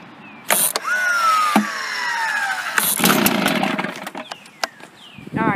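A Stihl BR 450 C-EF backpack blower engine sputters and fails to catch, with several sharp pull-start bursts and brief dying whines, loud and close with clattering gaps between attempts.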